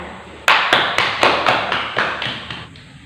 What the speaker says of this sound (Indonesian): Kesimpulannya sudah baik dan beri tepuk tangan.